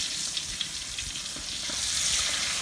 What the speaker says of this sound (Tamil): கனவா போடும்போது நல்லா பொட்டி தரிக்கும்